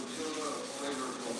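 Hand sanding with double-padded 400-grit paper across a blocked, final-primed cab of a 1968 C10 pickup, a steady close rubbing hiss with faint rhythmic strokes, no talking.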